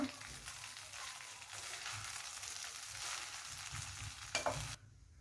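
Gojju (huli) avalakki, a tangy flattened-rice dish, being stirred and mixed in a pan, with steady scraping and stirring over a soft sizzle, a brief louder clatter near the end, then a cut to quiet.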